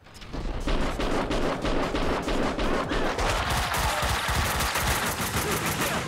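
Gunfire in the Max Payne video game rattles out as rapid, loud, close bursts of repeated shots, kept up almost without pause.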